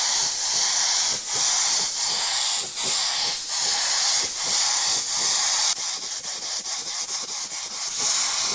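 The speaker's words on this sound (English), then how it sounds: "And I'm currently spraying it around 30 psi." A paint spray gun hisses at about 30 psi, a loud continuous airy rush broken by short pauses, then turning into quicker bursts with brief gaps.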